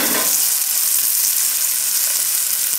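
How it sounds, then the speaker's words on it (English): Butter browning in a pan with tilapia, a loud, dense, continuous sizzle and crackle holding steady throughout at close range. "there is some browning here. The butter would burn"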